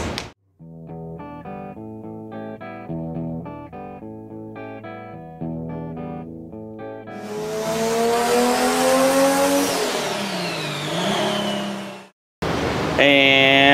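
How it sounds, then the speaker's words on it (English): A Plymouth Barracuda A-body with a big-block 383 V8 and four-speed pulls hard, a steady engine note climbing under music before a loud, roaring acceleration surge with tire noise, then a brief cut and another burst. "Barracuda runs with a big block. Give it beans!"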